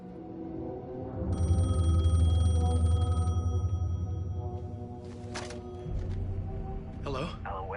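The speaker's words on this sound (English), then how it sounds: "phone was ringing" A telephone rings in the video game Alan Wake II, a steady electronic tone with bright harmonics repeating over a low droning hum of game ambience, followed by brief clicks and shifting noises.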